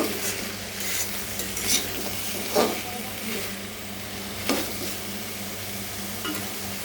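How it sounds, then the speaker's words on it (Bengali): Soya chunks fry in a kadai, a continuous sizzle with occasional sharp scrapes and clinks of a spatula stirring against the pan, steady and moderately close. "কড়াইতে এখন সয়াবিনগুলো দিয়ে দেবো"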